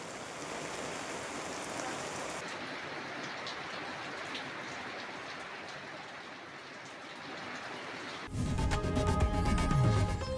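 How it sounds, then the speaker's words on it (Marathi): Unseasonal rain falls steadily since morning, a soft continuous patter and hiss, before an abrupt cut near the end to louder, unrelated sound. "सकाळपासूनच अवकाळी पाऊस बरसतोय"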